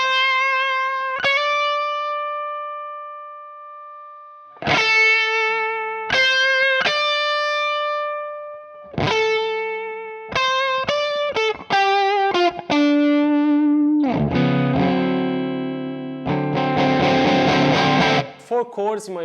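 An electric guitar plays through a Michelangelo Dophix overdrive pedal with the gain turned up. Single notes and short phrases ring out with sustain, building to thick, saturated chords near the end.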